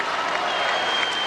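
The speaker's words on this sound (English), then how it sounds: "Those seniors get a nice round of applause as well." Crowd applause at a 2004 Illinois high school boys basketball third-place game as seniors head to the bench, a brief steady clapping wash over gym ambience.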